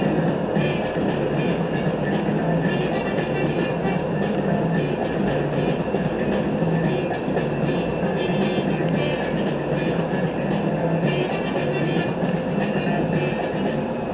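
A Las Vegas Monorail train pulling into a station, a steady loud rolling rumble with faint rhythmic clatter throughout, close and continuous from the inside, with no talk.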